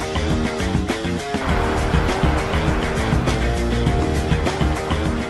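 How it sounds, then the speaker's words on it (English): Car sliding sideways across a frozen ice surface under heavy power, a loud, continuous engine roar with dense broadband noise and no pauses, close to the listener throughout. "flick a car sideways at speed, then hold it almost perpendicular to the direction of travel, while pouring on the power to keep it sideways"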